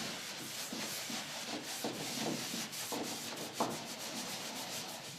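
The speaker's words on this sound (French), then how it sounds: "vous pouvez ainsi poncer un côté dans le coin sans endommager le côté adjacent" Abrasive sponge or sanding pad rubbing into an inside corner while finishing a room, a steady gritty back-and-forth scrubbing with soft rhythmic strokes, moderately quiet and alone without any voices.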